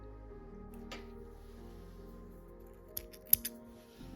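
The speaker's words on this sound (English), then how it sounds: "And now we can cut our yarn" Scissors cut crochet yarn in two or three quick, crisp snips close together near the end, heard alone over a quiet room.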